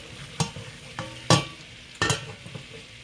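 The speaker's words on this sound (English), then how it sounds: "let the butter cook down" Butter melts and cooks down in a pan for homemade mac and cheese, giving a soft background sizzle punctuated by three or four sharp spoon scrapes and taps against the pan.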